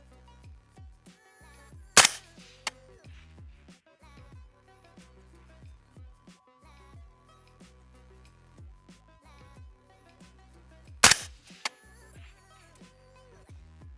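Two sharp, loud rifle shots crack about nine seconds apart at an outdoor shooting range, fired through an 18-inch barrel in 5.56 or 6 ARC, with quieter clatter and handling noises between them.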